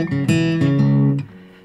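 Acoustic hill country blues guitar plays a short response phrase, with several plucked notes over a ringing bass, up close and alone, the last notes softening as the phrase trails off.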